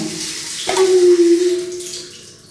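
A shower head runs while a baby is washed, water hissing steadily at close range and shifting into a brief resonant tone as the flow changes, then fading slightly toward the end.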